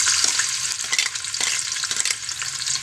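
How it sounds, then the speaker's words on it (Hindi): Onions sizzling and crackling in hot ghee in a pan while being stirred, a steady loud broadband frying hiss with scattered pops and occasional stirring clatters, heard close up with no talk. "तो घी गर्म हो गया, इसमें प्याज डालते हैं अब।"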